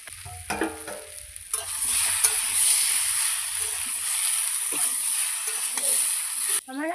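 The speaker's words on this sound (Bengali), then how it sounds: "আমি পনেরো মিনিট ভালো করে কষিয়ে নেব" Potatoes, moringa drumsticks and pumpkin sauté in a pan with a loud, continuous hissing sizzle that starts abruptly and holds steady, broken by occasional stirring scrapes and a voice speaking over it.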